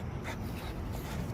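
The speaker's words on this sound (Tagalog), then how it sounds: "Yung mga aso dito na tumatakbo-takbo." Dogs scampering around a grassy park, with soft panting, light paw scuffles and faint whimpers close by.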